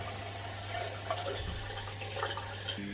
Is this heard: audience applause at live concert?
no